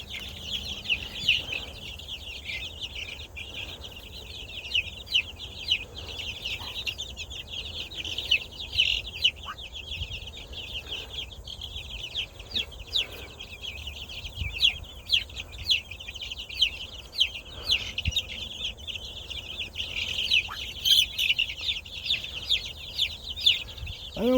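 A mixed flock of bantam and egg-laying hens clucks and chatters continuously outdoors on a farm, with many overlapping soft calls and occasional louder squawks and chirps at moderate distance.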